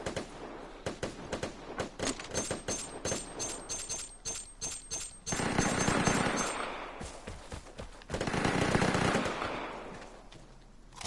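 Submachine gunfire in the online shooter game Vigor, rapid automatic bursts repeating across the stretch, with two longer heavy roaring sustained volleys in the middle, fairly loud and close.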